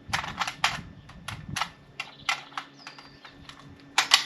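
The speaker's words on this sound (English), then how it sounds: "Be shooting my Howa 1500 with a 24-inch barrel and now 7 inches of suppressor" A Howa 1500 rifle in 6.5 PRC with a 24-inch barrel and a 7-inch suppressor fires outdoors. Several sharp, fairly quiet cracks land at irregular intervals over faint wind and background hiss, with a louder cluster at the end.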